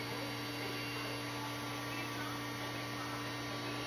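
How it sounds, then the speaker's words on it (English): A heat gun runs at a steady, even roar with a constant hum and airy hiss, close and unchanging throughout, warming material before cutting during a battery box build. "Got a heat gun here. I'm just gonna heat this up just to help me cut it."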